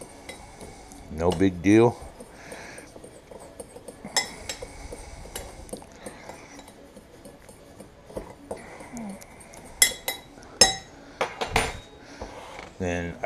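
Salt, pepper and garlic, with Morton's kosher salt, are mixed in a container: bursts of clinking, rattling and scraping come and go, loudest near the start and toward the end, with a brief spoken remark.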